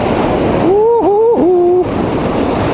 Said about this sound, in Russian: Смотрите, какая волна.